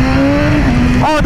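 A stock 2022 BMW S1000RR motorcycle accelerating hard in first gear, its loud close engine note climbing steadily in pitch before a brief shift-like break at the end.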